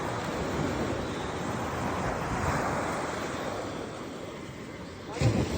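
Sea waves wash onto the shore during nighttime crab hunting, a steady broad roar of surf with wind buffeting the microphone and a faint bump near the end.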